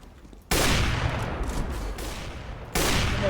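Dense, loud Counter-Strike: Global Offensive gunfire in a continuous burst of rapid shots, cutting in abruptly, briefly easing, then surging again near the end, with no voices over it.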